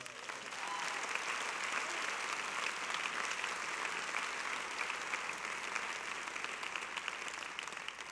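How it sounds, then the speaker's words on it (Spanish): A church congregation bursts into sustained, dense applause, many hands clapping evenly and continuously at a moderate distance with no pauses. "Denle un aplauso fuerte al Señor."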